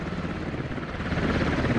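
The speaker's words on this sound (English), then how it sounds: "Once again, Jay Remick, our helicopter pilot, lifting off." A military helicopter lifts off in the video game Squad, its rotor throbbing loud and close in a continuous pulsing roar with no talk.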